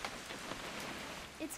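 Rain in the video game What Remains of Edith Finch, a soft steady patter of drops on surfaces, faint and continuous for a short moment.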